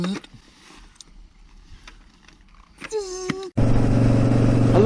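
A Harley Davidson motorcycle engine bursts into a loud, steady roar close by near the end, after a quiet outdoor stretch with faint scattered noises.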